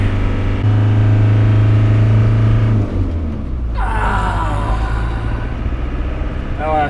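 Old vehicle engine revving hard in low gear on narrow roads, a loud, deep droning rumble that holds steady and then shifts pitch, with people talking over it.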